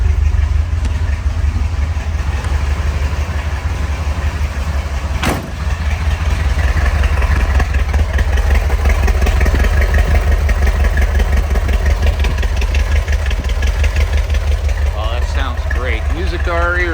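A 1970 Chevrolet Corvette LT1 convertible idles steadily just after a cold start, with a deep, even rumble from the tailpipes that holds loud and close for the whole stretch, apart from one brief sharp knock.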